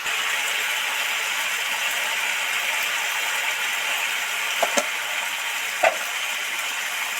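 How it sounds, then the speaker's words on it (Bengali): Potatoes with chili and turmeric powder stirred in a pan, a steady broadband frying hiss with a few soft scrapes and clicks of the utensil against the pan, close and alone. "নেড়ে চেড়ে ভালো করে লঙ্কা গুঁড়ো হলুদ গুঁড়ো আলুটার সাথে মিশিয়ে দিচ্ছি"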